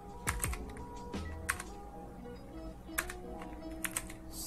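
Typing Python code on a computer keyboard, a few irregular close key clicks and taps spread across several seconds over a quiet room hum, with no talking.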